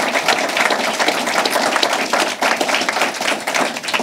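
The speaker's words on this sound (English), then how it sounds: "Another round of applause for our congressman." A crowd at a government announcement event applauds steadily, dense clapping filling the room at a loud, even level for several seconds.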